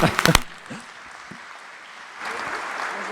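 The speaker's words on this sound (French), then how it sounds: "On peut l'applaudir" Applause breaks out at a digital industry conference in Paris as an executive is introduced: a brief spell of claps at first, a quieter lull, then a steady wave of clapping rising near the end.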